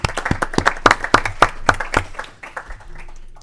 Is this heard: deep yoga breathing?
no